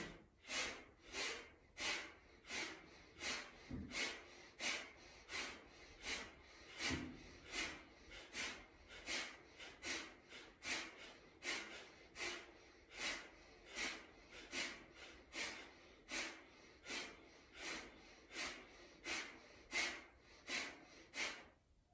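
Rapid forceful nasal breaths of a breath of fire exercise, a steady pumping rhythm of sharp exhales repeating about twice per second for the whole stretch, close and clear with no talking.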